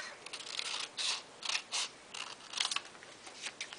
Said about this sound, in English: I cut it a little bit short so it doesn't cover up the entire cover of the book